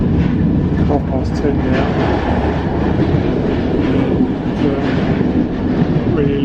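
Steady rumbling roll of a passenger train on the Budapest to Bucharest line, heard from inside the carriage with faint rhythmic clatter throughout and a voice speaking briefly.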